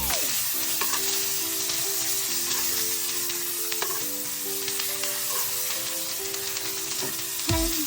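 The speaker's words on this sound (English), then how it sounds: "Put the melted butter to the steak." Ribeye steak sizzling as melted butter is spooned over it, alongside potatoes grilling: constant bright frying hiss with soft clinks and scrapes of utensils, plus a steady tonal hum beneath, no speech.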